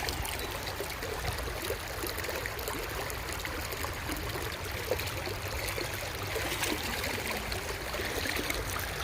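A fresh, cool outdoor stream over stones, rocks and sand runs in a steady, close babbling trickle, even and unbroken with no talking.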